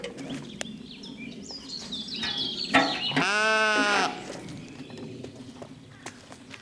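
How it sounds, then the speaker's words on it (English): Sheep bleating loudly close by on farmland, one long wavering bleat in the middle, with faint shuffling and scattered clicks of movement before and after, no talk. "So the sheep come out here and take all the old leaves and little shoots."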